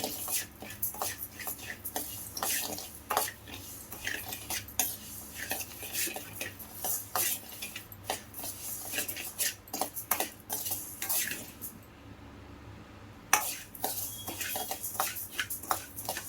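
Rice dry-roasted in a pan for sambar powder, a steady run of scraping and clinking from a spatula against the metal pan in an uneven stirring rhythm, close and fairly quiet with a faint sizzle underneath.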